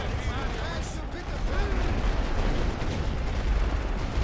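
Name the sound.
machine gun firing in The Great War video game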